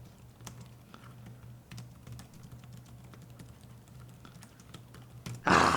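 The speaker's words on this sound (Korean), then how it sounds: "휴대용 키보드에서 엄청나게 인기를 끈 로지텍 K380." Typing on a Logitech K380 portable keyboard with a reinforced plate, giving a steady run of light, close key clicks and taps alone, ending in a brief loud burst.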